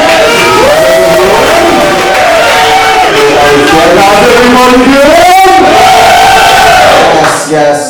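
An audience at a poetry and mental-health event for World Homeless Day cheers and shouts loudly in a sustained roar, with voices rising in pitch together before it tails off near the end.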